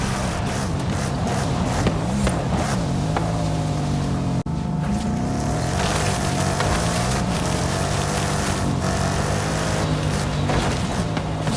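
A Lamborghini Centenario's engine drones continuously in a racing video game, a loud sustained roar with rising and falling pitch as it accelerates and shifts, with a brief dip partway through.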